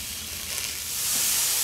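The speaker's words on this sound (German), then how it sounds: "Und man hört schon brutzeln." Quartered button mushrooms fry in a pan with minced meat and cabbage, giving a soft, steady sizzling hiss that slowly grows louder, with no talk.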